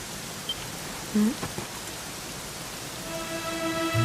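Steady rain falling in the video game Dragon Quest XI, a dense hiss of drops that holds even throughout, with a soft tonal blip near the start and faint tones building toward the end.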